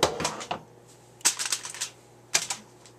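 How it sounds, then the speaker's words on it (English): Tin snips cut a metal burr off a homemade hobo stove, producing crisp, close metallic snips and clacks in three short clusters separated by brief pauses. "I'm just going to cut that off with my tin snips"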